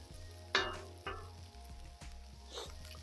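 Chicken pieces sizzle steadily on a hot Blackstone griddle for a stir fry. Several sharp metal spatula scrapes and clanks cut through the quiet, even frying hiss.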